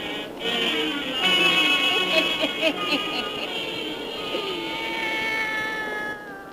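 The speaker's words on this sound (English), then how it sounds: "join old Nancy, witch of Salem, and Satan, her wise black cat." A black cat meows in drawn-out, wavering cries over a steady background hum in a 1930s horror radio drama, fairly close and persistent for several seconds.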